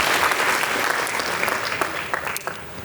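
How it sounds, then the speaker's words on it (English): An audience at a symposium applauds, steady dense clapping from a roomful of people that stays loud throughout and tapers slightly toward the end, with no speech over it. "I'd love to do another round of applause and appreciation for them."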